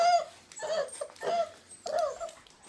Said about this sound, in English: We live with the pups.